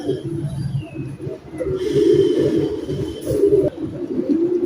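A pair of Teddy pigeons from an imported bloodline coo close by in low, throaty repeated phrases that rise and fall continuously, with someone talking faintly underneath.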